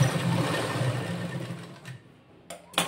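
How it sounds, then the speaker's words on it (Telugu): A sewing machine stitches a seam on a petticoat (body langa) during tailoring, a steady close mechanical whirr that runs continuously and then stops, followed by a couple of brief handling clicks in near silence. "దీనిని కూడా మనం ఇట్లా పక్కకి పెట్టి ఇంకొక కుట్టు అనేది వేసుకోవాలి"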